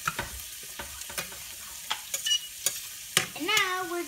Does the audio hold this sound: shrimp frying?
yes